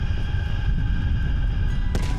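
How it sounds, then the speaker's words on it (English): Gunfire in the video game Call of Duty Black Ops Cold War rumbles from a distant firefight, a continuous low booming with a sharper crack near the end. "At the fork, you follow the road right toward the sound of gunfire."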